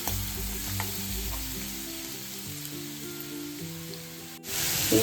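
Ground masala paste sautés in hot oil for a dill (shepu) bhaji, giving a steady close sizzle over background music, with a brief clatter near the end.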